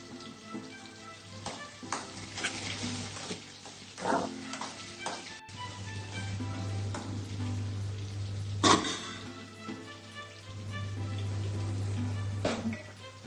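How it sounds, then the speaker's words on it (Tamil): Onions sautéing with a little salt in a pan, giving a continuous soft sizzle and frying crackle with occasional stirring scrapes over a steady low hum. "வெங்காயம் நல்லா வதங்கிடணும்."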